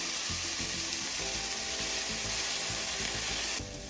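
Soft onion sizzling in a pan for an Indian vegetable sandwich, a dense continuous hiss of frying up close with faint stirring scrapes, easing slightly at the very end.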